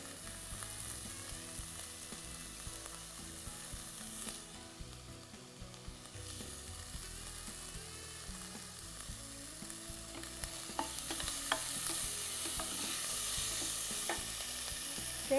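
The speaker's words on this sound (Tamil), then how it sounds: "சேர்த்து நல்லா கொஞ்சம் வதக்கிக்கோங்க" Ingredients sauté in a pan for a healthy rice dish, a continuous close sizzle and frying crackle with stirring scrapes, steady throughout and growing slightly louder toward the end.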